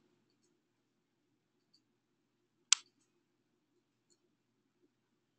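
A single sharp computer mouse click stands out in a quiet room, with only a couple of very faint ticks around it.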